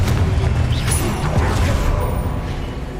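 An explosive Confringo spell is cast in Hogwarts Legacy, giving a loud, dense blast with a rising whoosh and a rumbling, crackling tail over continuous game noise, with a shouted voice nearby.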